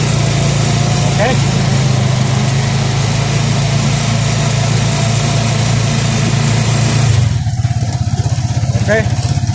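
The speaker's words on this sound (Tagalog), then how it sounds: "Ang gamit ko pong motor ay Honda 155." A Honda 155 motorcycle engine with CDI ignition idles close by with a steady, low, even putter, shifting to a rougher, lower throb near the end, while a rider talks over it.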